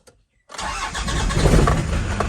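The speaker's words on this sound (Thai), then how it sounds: "ชึ่งเดียวติดนะครับ นี่ หัวแล้วชึ่งเดียวติดเลย" Old pickup truck engine cranking and catching on the first try after glow-plug heating, silence then an abrupt loud start settling into a rough, rumbling idle close by.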